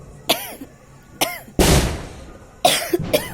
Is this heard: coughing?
yes